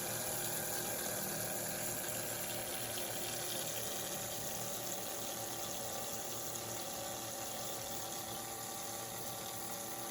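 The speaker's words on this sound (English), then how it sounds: "I run the pump, and the water start going in the circle" A steady, continuous rush of water circulating through a tube, driven by a pump in an atmospheric water generator, even and unbroken, with a faint mechanical hum beneath.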